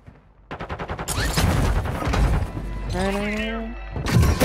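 Gunfire in the Call of Duty video game, with rapid bursts of shots and crashing impacts, mixed with a rising whine and loud game effects, while players talk throughout.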